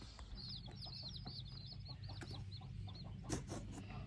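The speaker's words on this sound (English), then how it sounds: "And now it's time to put the chicks in." Baby chicks peep in a steady, busy chorus of high chirps as they are placed into a brooder on a homestead, close and continuous, with soft handling rustles and a low background hum.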